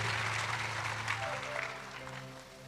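Church congregation applauding after a sermon remark about an award, a steady wash of clapping that fades gradually toward the end, with a faint sustained tone underneath.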